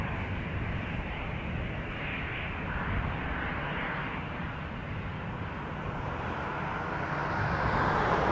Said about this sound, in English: Clear takeoff 24 right, Air Canada 95.